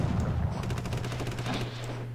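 Rapid volley of rocket-battery fire in the Roblox combat game Noobs in Combat, a dense crackling barrage over a steady low engine-like drone, fairly loud and continuous, with no talk.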